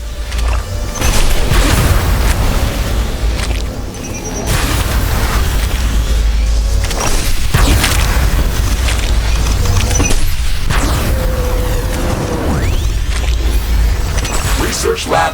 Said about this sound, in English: A portal has been destroyed.